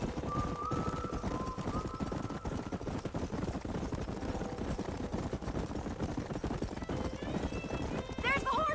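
Horses galloping in the western video game Red Dead Redemption, a rapid steady thudding of hooves close by under talk and game music, with a whinny near the end.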